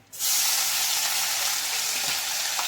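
Onions dropped into hot oil for doi katla, a Bengali curd fish curry, burst into a loud, sudden sizzle that holds as a steady close hiss throughout.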